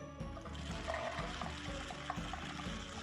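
Dry rice, beans or lentils pour into a homemade rainstick craft tube, a steady trickling rattle that runs continuously for about three seconds at close range with no talking.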